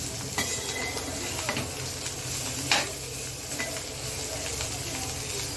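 Squeezed cluster beans are sautéed in a pan over a low flame, with a continuous close sizzle broken by occasional scrapes and clinks of a stirring spoon.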